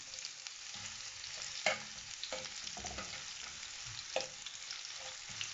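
Chopped onions sizzle and fry in preheated oil for a Jamaican ackee and saltfish dish, a steady close hiss broken by a few stirring scrapes and clatters.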